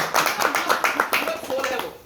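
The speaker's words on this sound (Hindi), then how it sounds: "एक बार दिल से ताली बजा दो यार किसी से।" A seated group at a team motivation session claps in a quick burst, a dense run of sharp hand claps fading near the end, with voices underneath.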